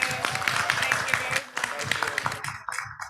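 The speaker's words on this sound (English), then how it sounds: "please give a big applause to Dr. Hilda Montano and Trinh Nguyen" Applause from an audience at a teacher education capacity-building session in Thailand, a dense steady patter of many hands clapping for presenters, continuing for a few seconds before thinning out near the end.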